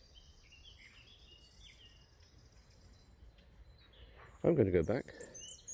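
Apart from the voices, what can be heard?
birdsong on a walk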